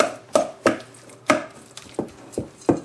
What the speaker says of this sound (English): Mash all the yolks up.